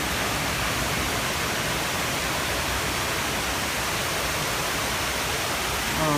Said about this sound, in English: this water comes from here, and it falls down into the pool itself